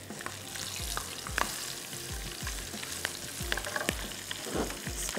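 Garlic ginger paste and green chilies frying in a pan for a masala pulao, crackling with a steady close sizzle and a few stirring scrapes, no voices.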